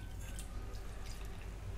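Water pours into rice flour in a pot, a soft, continuous trickling and dripping close by, faint and steady throughout.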